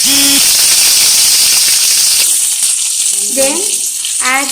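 Curry leaves and finely chopped small onions hit hot oil with a loud, close, hissing sizzle that eases slightly after a couple of seconds. A voice speaks briefly over it near the start and again at the end.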